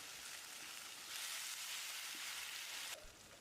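A steady sizzling hiss of tamarind water hitting a hot pan of Tamil vatha kuzhambu, rising slightly then dropping off near the end, heard alone and fairly faint.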